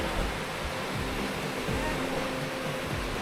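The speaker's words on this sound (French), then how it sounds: "La cascade est juste là." A waterfall pours steadily nearby, a constant broad rushing wash of falling water that holds an even level throughout, with no clear voices over it.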